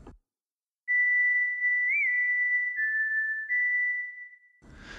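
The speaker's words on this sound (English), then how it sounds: "This will give us a nice whistle sound." A synthesized whistle tone with note glide holds a steady pure pitch for several seconds, with a brief upward bend near the start and a small downward step partway through, clean and isolated.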